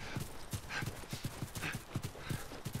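Horses clip-clopping in The Last of Us, a steady run of hoof beats at an even trotting rhythm, close and fairly loud with no talk over them.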